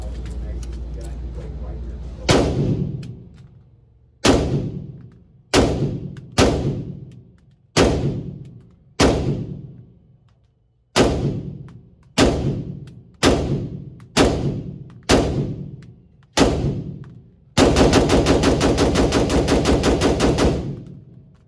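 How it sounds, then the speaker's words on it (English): A piston-driven JAKL rifle fired outdoors, a dozen loud, close single shots with echoing tails at irregular intervals, ending in a sustained rapid burst of fire. "First shots with the JAKL ever since I've owned it."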